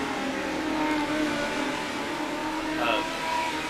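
Loud, continuous roar of Mighty Midget race cars on the track at Charlotte, engines revving and droning without a break.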